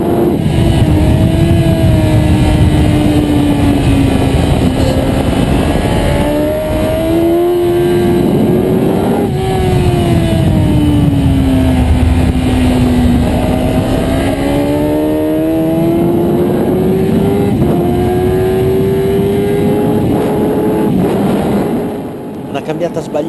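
Onboard a 2012 Kawasaki Ninja ZX-10R on a race track, the engine screams loudly and continuously, pitch climbing and dropping through gear changes and wind rush, with a voice talking over it.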